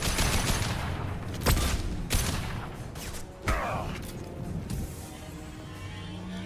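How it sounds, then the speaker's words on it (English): Flashbang grenades going off in the sci-fi shooter Mass Effect 2, a few sharp bangs spaced a second or so apart over a constant rattle of combat noise, moderately loud. "Watch out. Flashbangs."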